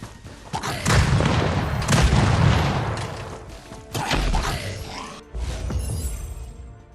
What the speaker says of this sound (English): let's try the grenade